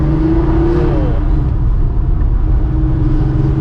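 A modified Porsche 911 964 engine idles lumpy and uneven, a loud, close, continuous low rumble with a throbbing, irregular beat and no talk.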